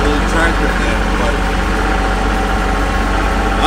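A tractor engine idling close by, a loud, steady low throb with even vibration that holds unchanged throughout, with no talk over it.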